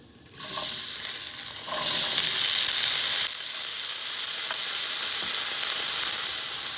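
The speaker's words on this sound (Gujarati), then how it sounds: "તેલ મૂકી દીધું છે અને એમાં હિંગ નાખી, ચપટી હળદર નાખી અને આપણે બટેટા પહેલાં વઘારી દઈશું અલગથી" Potatoes hit hot oil already seasoned with asafoetida and turmeric, giving a sudden loud sizzle that swells as they are stirred, then settles into a steady close frying hiss with no talking.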